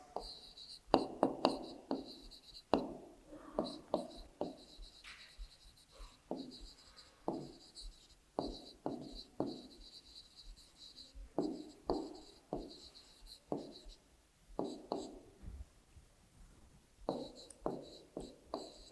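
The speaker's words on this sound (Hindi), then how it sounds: "जो नंबर्स दिए गए हैं है ना, उनको पहले हम लिखेंगे।" Numbers written by hand with a pen or pencil, close and quiet, in repeated bursts of short scratchy strokes with brief pauses between, under occasional soft talk.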